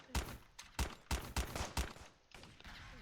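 A Dragon Rifle in the video game Graal Online Era fires sharp gunshots, with five evenly spaced bursts in quick succession followed by fainter shots trailing off.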